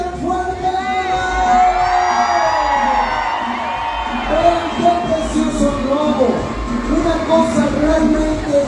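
A large crowd at a balloon contest in Zozocolco de Hidalgo cheers and shouts together, sustained whoops and voices blending into a loud continuous roar.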